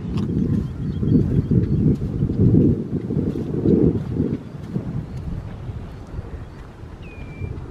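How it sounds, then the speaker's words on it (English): Strong gusting wind on Golspie Beach on the Scottish coast buffets the microphone in heavy low rumbling waves that ease off slightly toward the end, with a faint high whistle near the close. "The wind is getting stronger"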